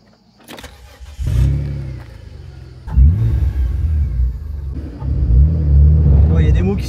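A Renault Clio V6 engine rumbles and revs hard under throttle in repeated surges, loud and close, with a person talking over it.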